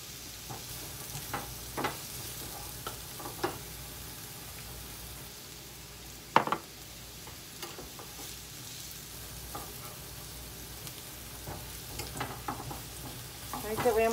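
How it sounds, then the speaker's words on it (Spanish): Onion fries in a pan, a continuous soft crackling sizzle dotted with small pops and an occasional louder clack of a utensil, close and steady with no voices. "Aquí está mi cebolla guisándose."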